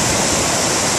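A river swollen by overnight typhoon downpours roars past in a steady, dense rush of water, loud and close, with no voices over it.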